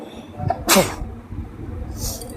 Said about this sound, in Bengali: কাল থেকে দেখছি ভীষণ হাঁচি হচ্ছে আর কাশি টাশিও হচ্ছে